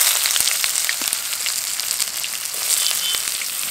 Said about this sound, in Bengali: পেঁয়াজটাকে বাদামি করে ভেজে নেবো